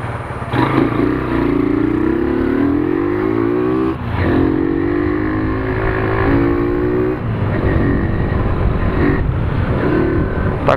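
A carbureted Honda Titan 150 motorcycle runs loud and close while riding, its engine rising and falling through several revving gear pulls with a buzzing exhaust note and wind noise.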